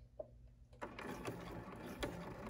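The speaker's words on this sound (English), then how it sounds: "And then I'm going to backstitch." A sewing machine backstitches through fabric while sewing a machine cover, starting after a quiet moment with a steady, close mechanical whir and stitching rhythm that runs to the end.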